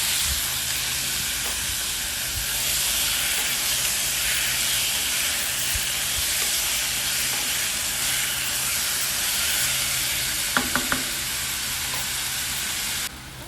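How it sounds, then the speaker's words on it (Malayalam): Marinated chicken pieces sauté in a hot pan for a Kerala-style chicken ullarthiyathu, giving a steady, loud broadband sizzle and hiss that runs unbroken for about thirteen seconds, with a few faint clinks near the end and no talking. "ഇനി നമ്മൾ മാരിനേറ്റ് ചെയ്ത് വെച്ച ചിക്കൻ അതിലേക്കിടും. എന്നിട്ട് അത് നന്നായിട്ട് ഒന്ന് സോട്ട് ചെയ്തെടുക്കും."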